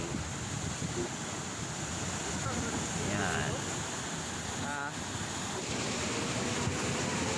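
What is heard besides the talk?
large ocean waves crashing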